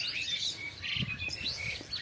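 Small birds chirp in quick repeated tweets, soft and somewhat distant outdoors, with no voices.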